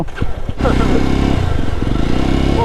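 Jawa 42 2.1 motorcycle ridden on a test ride, its engine a steady low droning rumble throughout, with someone talking briefly at the start.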